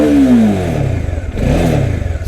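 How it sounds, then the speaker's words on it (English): Bajaj Dominar 400 first-generation motorcycle revving up loud and close, then settling to a steady engine drone with a second rise in revs as it rides off, no voices over it. "So riding the first generation Dominar"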